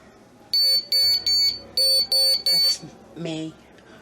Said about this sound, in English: if I touch the bone it beeps, but it's beeping now and I'm nowhere near its vicinity